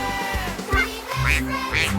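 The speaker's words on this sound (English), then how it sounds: "Quack!" A cartoon duck quacking in a children's teamwork story, a few nasal quacks close up over a musical backing.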